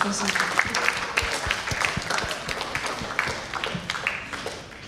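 A conference audience at a closing plenary panel claps steadily, a scattered patter of many hands sustained throughout, with a voice briefly speaking underneath at moderate distance.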